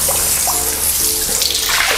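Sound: water filling a settling tank

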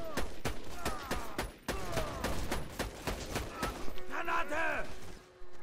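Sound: new sniper rifle firing in the video game Borderlands 2

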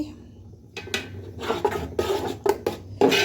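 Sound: stirring tomato sauce with tamarind, sugar and chili in pan

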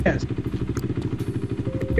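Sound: motorcycle engine in a video game (GTA)

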